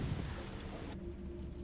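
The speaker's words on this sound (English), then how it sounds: "She got the window open while it's raining." Rain in the video game Resident Evil 3 falls steadily as a soft, even hiss, with a low background hum underneath.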